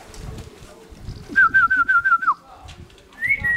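Racing pigeons at a loft give a run of short, rising whistly calls in a rapid evenly spaced series, then one more brief call after a pause, fairly close over low background noise.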